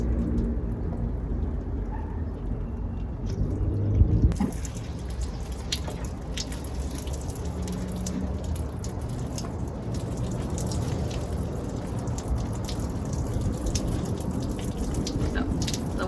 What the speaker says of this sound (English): So the water is draining